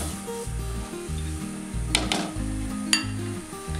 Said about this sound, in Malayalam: ജസ്റ്റ് പതുക്കെ ഒന്ന് ഇളക്കിയെടുക്കാം.